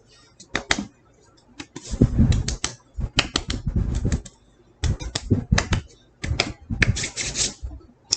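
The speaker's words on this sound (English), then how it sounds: "y'all can stop clapping now" Bursts of clapping from a small group, uneven and clattery with gaps between flurries, loud and close.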